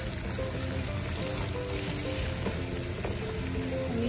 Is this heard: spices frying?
yes